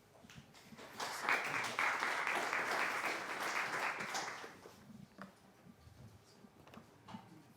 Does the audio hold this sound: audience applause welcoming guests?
yes